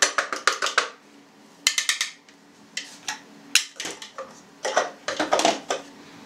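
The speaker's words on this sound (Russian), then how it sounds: "Высыпаем печенье в емкость, в которой мы сможем его хорошенько перемешать." Crumbled cookies for a New York cheesecake base poured into a mixing bowl, coming as quick clustered bursts of dry clattering and rustling with short pauses between pours, close and fairly quiet with no talk.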